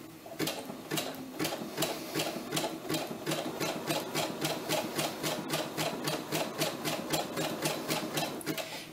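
A Brother SE-400 embroidery sewing machine stitches a fabric applique, producing a fast, even run of mechanical clicks and needle thumps with a steady motor hum, close and continuous, with no voices.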